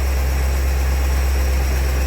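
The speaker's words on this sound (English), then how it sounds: "we timed the engine out. Running nice and smooth." A 1960 Ford Thunderbird with a 352 cubic inch V8 idles steadily and smoothly, its deep, loud, continuous rumble close by and unbroken, with no voices.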